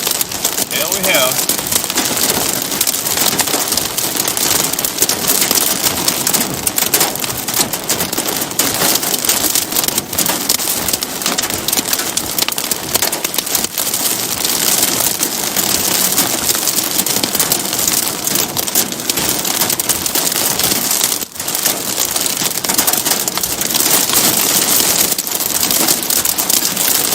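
Wind-driven pea-size hail and heavy rain pound a vehicle during a western Kansas supercell, a loud, dense, steady clatter and roar throughout, with people talking at moments underneath.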